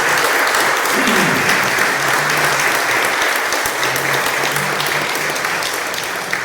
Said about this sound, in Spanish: Un aplauso para San José